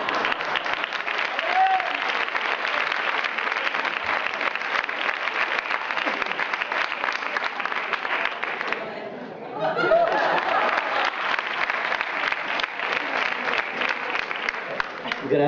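An audience applauds after a dance performance, with dense sustained clapping from a large crowd that dips briefly midway then swells again, mixed with scattered chatter and laughter.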